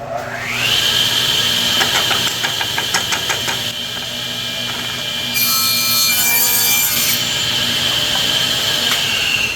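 A bandsaw slicing through a piece of wood during an antique table repair, a loud steady motor whine with the blade's rasping cut close up, the tone shifting partway through as the cut changes.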